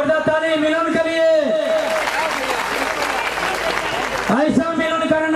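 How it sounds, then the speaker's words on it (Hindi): Crowd applause at a political party joining event, a burst of clapping that swells between amplified speech through a loudspeaker, loud and close, then fades as talk resumes. "जोरदार ताली मिलन के लिए।"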